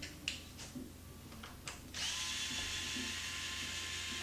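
A DeWalt variable-speed drill backs screws out of a Traxxas X-Maxx RC truck chassis: a few light clicks and taps, then the motor spins up into a steady, high whine that holds to the end.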